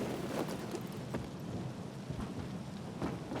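Steady rain in the video game Dying Light 2 hisses evenly throughout, with low rumbling thunder underneath and no voices.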